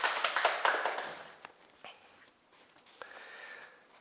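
A small gathering at a Buddhist teaching session claps briefly and softly to congratulate someone; the scattered applause fades within about a second, leaving quiet room tone and a few faint taps.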